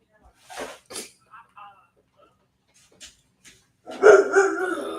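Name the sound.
dog barking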